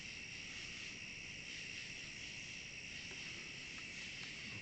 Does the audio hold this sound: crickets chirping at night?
yes